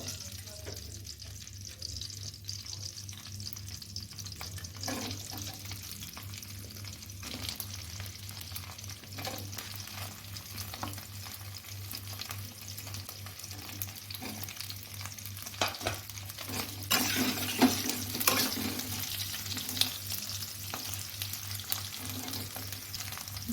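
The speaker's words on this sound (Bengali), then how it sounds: "এখন আমি আলুগুলো একটু ফ্রাই করে নেবো" Potatoes fry in a pan with a low, continuous sizzle, broken by occasional stirring scrapes and a louder bustle of handling near the end, no speech.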